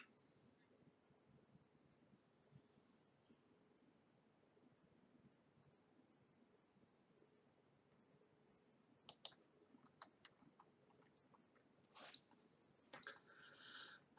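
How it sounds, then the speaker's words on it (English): A computer mouse clicks in short, sharp bursts from about nine seconds on, close to the microphone. The clicks come in irregular clusters after a long stretch of near silence, with a faint low background hum. "I can hear a mouse clicking."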